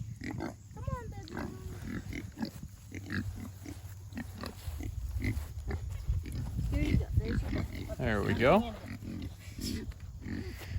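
Kunekune pigs grunt and snort up close while being moved into a pen, short grunts recurring throughout alongside a person talking and a few squeals near the end.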